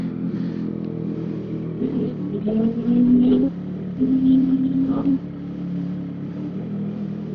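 A motorcycle engine runs nearby, revving up twice with rising whine before settling back to a steady idle.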